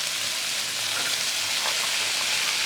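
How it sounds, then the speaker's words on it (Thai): Long beans stir-fried in a hot pan, a steady bright sizzle with soft scraping and stirring, close and continuous, with no talking. "แล้วก็ผัดให้มันสุกแล้วค่อยมา ปรุงกันอีกทีหนึ่ง"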